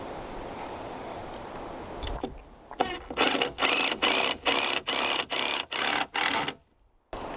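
About ten rapid bursts from a power driver sinking 100mm screws into upright wooden beams on the base of an off-grid cabin's walls, evenly spaced and fairly loud, separated by short gaps, with a quiet outdoor backdrop before the first burst.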